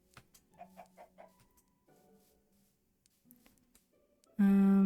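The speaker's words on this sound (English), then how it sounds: "Oh, a baby chicken." A baby chicken in Minecraft clucks in a short run of about five soft, evenly spaced clucks, then a few quieter blips, before a loud sustained tone cuts in at the end.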